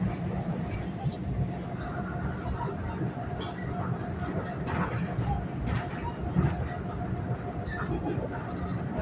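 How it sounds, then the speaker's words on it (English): Long Island Rail Road express train running nonstop from Jamaica to Grand Central, heard from inside as a steady rumbling roll of wheels on rails with a constant hum, fairly close and continuous. "This is a direct train from Jamaica to Grand Central. No stops in between. The ultimate express train."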